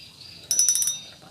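The ratchet of a spinning fishing reel clicks as it is tightened, a short run of about six rapid, crisp metallic ticks heard close up, with no talking.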